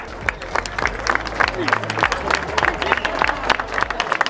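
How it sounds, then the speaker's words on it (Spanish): A crowd at a rural event for yoked oxen pulling loads claps in a lively, sustained burst of applause, with babble and shouts mixed in. "Un aplauso para esta yuntita."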